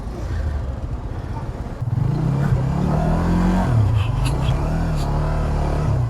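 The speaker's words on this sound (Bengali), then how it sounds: "ভাইয়েরা সারি সারি ভাবে বাইক রাইড করতেছি" Several motorbikes, including a Suzuki GSX-R and a Yamaha R15 V3, ride one behind another along a village road, with a steady close engine drone that rises in pitch and shifts under revving throughout.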